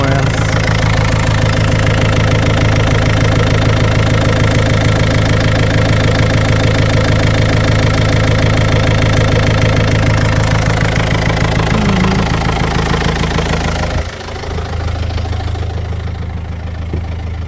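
A Renault Megane mk2 1.5 dCi diesel with over 238k miles runs loud and close, idling with a steady knocking clatter. It continues evenly before a sudden drop in level near the end.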